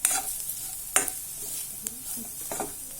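A vegetable masala keema sautés and sizzles in a pan while a utensil stirs and scrapes it, with a few sharp clinks standing out over the continuous frying hiss.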